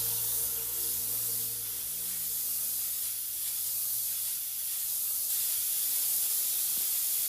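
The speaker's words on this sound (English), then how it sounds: "we're going to use the airbrush with a little bit of black thinned out" Airbrush spraying thinned black paint to shade a Blue Jay carving: a steady, continuous airy hiss held at an even level throughout, with a low hum underneath and no talking.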